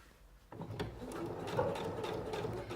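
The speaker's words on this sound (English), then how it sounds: "You can just start sewing." A Singer Professional 9100 sewing machine stitches through zipper tape, a steady close mechanical whir with rapid needle clatter that starts abruptly after a brief quiet moment and runs continuously.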